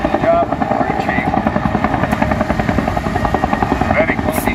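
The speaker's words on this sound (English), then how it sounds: "The pilot now moves that helicopter away." A UH-1 Huey helicopter hovers during a rescue demonstration, its rotor chopping in a loud, fast, steady rhythm with a whining turbine throughout, while someone narrates over it.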